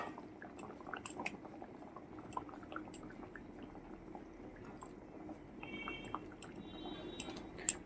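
Fish curry with potatoes and shimul fish simmering in a pot, a faint, steady bubbling with scattered small pops and drips, alone and fairly quiet throughout.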